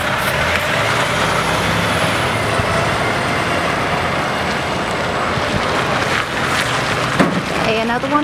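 A leachate tanker truck pulls out of a wastewater treatment plant and rolls past, its steady engine and tyre roar loud and close throughout, with a brief hiss near the end.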